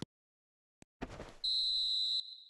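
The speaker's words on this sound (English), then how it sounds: "And there goes the final whistle" A referee's final whistle in the eFootball video game sounds as one clear, shrill tone held for almost a second after brief crowd noise, then fades out, with no talk.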